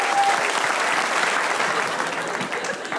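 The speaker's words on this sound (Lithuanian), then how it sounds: "Plojimai." Studio audience clapping for a comedian on a comedy show, a dense, close burst of applause that holds steady and eases slightly toward the end.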